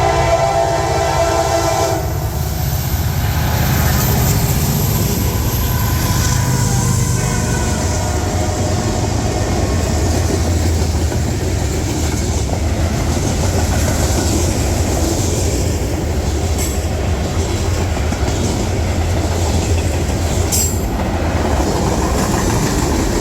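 A freight train hauled by D&H locomotives rolls past close by with a loud, steady rumble and clatter of cars, and a high horn tone sounds early on.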